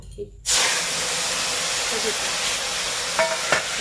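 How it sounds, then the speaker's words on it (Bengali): Panch phoron spices hitting hot oil while cooking a Bengali bitter gourd, potato and eggplant chochori, giving a sudden loud steady hiss of sizzling that carries on evenly with a couple of small stirring clicks near the end. "তেল গরম হয়ে গেছে বন্ধুরা আমরা এটাতে এবার ফোড়ন দেব পাঁচ ফোড়ন দিয়ে দেখুন"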